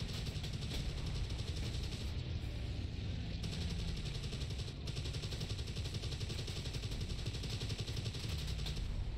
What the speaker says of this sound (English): Was you just shooting at me?